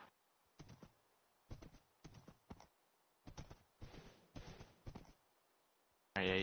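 Minecraft horse hooves clip-clop faintly in quick pairs and small clusters, a light tapping rhythm at low volume, ending in a sudden louder burst of noise.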